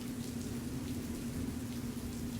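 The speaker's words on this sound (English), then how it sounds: "I feel the rain giving my back, my head, and my arms that nice little massage" Steady rain falls in an even, continuous hiss with a low drone beneath it, moderately loud and unbroken, with no voices.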